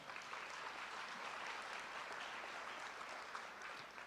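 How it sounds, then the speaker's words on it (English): Steady, sustained applause from an audience at a school signing ceremony, honoring teachers and administrators, a dense even wash of clapping lasting several seconds with no talk over it. "Give those groups of people a round of applause."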